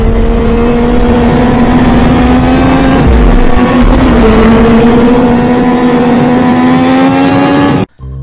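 A 2024 Triumph Daytona 660 motorcycle with an inline-three engine revving close and loud, its sustained tone rising and holding steady, dipping briefly mid-way, then cutting off abruptly at the end.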